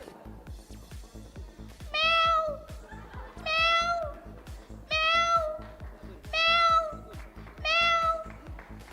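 A contestant in a Navratri Paithani game show imitates a cat, giving five loud, drawn-out meows at roughly even intervals over a steady low background hum.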